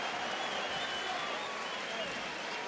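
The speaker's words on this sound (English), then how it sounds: "Sellout crowd here in León" Sellout boxing arena crowd in León, Mexico, a dense, steady roar of cheering and applause filling the space, loud and unbroken, with a voice faintly underneath.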